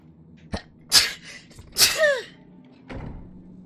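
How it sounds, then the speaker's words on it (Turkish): Two sneezes from a character in The Elder Scrolls V: Skyrim, sharp bursts close together near the middle, with a fainter thud just before and a short knock after. "Hapşırdım."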